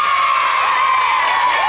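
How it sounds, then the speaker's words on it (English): A children's studio audience cheers loudly and continuously, a bright high-pitched mass of young voices shouting together, close and sustained throughout. "Shall we give Dan a big cheer?"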